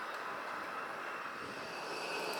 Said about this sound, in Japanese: アフリカ開発会議を終えた、アフリカ西部のセネガル政府専用機です。 機種はエアバス A320 ネオ